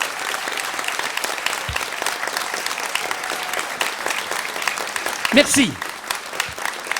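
An audience claps in a French storytelling show, a steady round of applause throughout with someone speaking over it.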